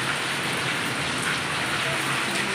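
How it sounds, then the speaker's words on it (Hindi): Heavy rain pours down in Jaipur, India, in a dense, steady hiss, loud and unbroken throughout, with no voices. "देख रहे हो बहुत तेज की बारिश है।"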